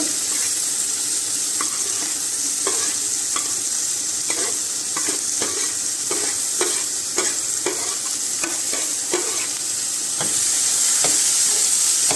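Chopped onions frying in hot oil with toasted cumin for paneer bhurji, a constant loud sizzle with repeated spoon stirring and scraping taps in the pan, close up and without talk.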